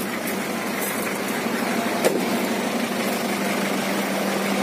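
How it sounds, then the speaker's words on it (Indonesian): The engine of a 2005 Toyota Kijang pickup runs at a steady idle with an even, vibrating drone. One small knock is heard partway through, and no one speaks over it. "kondisi mesinnya hidup semua ini"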